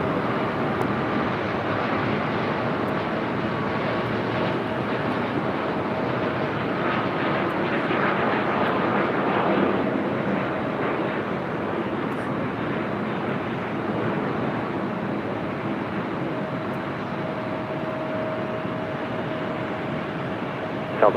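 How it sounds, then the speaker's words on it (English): A heavy Airbus airliner roars on short final into LAX at night, a continuous loud broadband jet rumble with a steady engine whine that holds for the whole stretch, slightly swelling near the middle. "Caution wake turbulence for that heavy Airbus short final."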